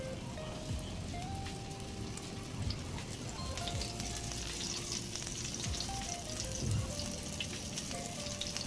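Fish frying in hot oil, a steady dense sizzle and crackle running unbroken throughout at moderate level, with no talking.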